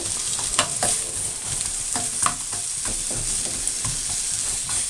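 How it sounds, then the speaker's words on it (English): Sliced onions sizzle in a pan over medium heat, a steady hiss of frying with repeated scraping and stirring clicks throughout, close and moderately loud with no talking. "I'm going to put my 50 grams of sliced onions into a pan"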